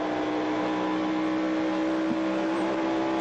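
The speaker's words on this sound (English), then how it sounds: "It's 4th gear there behind Dale Earnhardt" A NASCAR stock car engine holds a steady, loud drone in fourth gear at Pocono during the 1994 UAW-GM Teamwork 500, heard from onboard as a constant buzzing roar with no shifts or pauses.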